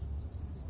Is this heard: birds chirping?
yes